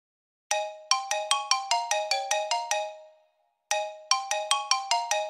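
A phone ringtone plays a rapid run of bright electronic tones, pauses briefly, then starts the same melodic pattern again, clear and close with no talking.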